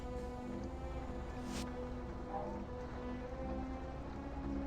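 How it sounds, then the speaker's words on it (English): Acid rain falling in the Doctor Who Adventure Game, City of the Daleks level: a steady, soft hiss of rainfall with a constant low hum beneath and a brief brighter splash, no voices. "Acid rain."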